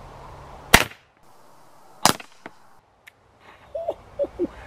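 An Umarex HDR 50 air revolver fires rubber balls, giving two sharp, loud, close cracks about a second apart, followed by small clicks of handling and a few short, squeaky sounds.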